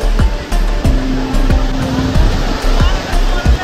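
A speedboat races over sea waves offshore, its engine whining with repeated rising and falling pitch as it hops the swells, heard from the beach over steady surf.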